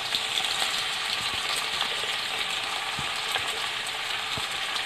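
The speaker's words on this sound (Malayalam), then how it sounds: "ചൂടായ എണ്ണയിലേക്ക് നമുക്ക് ഈ സവോള ഇട്ട് കൊടുക്കാം" Sliced onions sizzle steadily in hot oil left from frying chicken for Malabar chicken biryani, a close, continuous crackling hiss with small pops throughout and no talking.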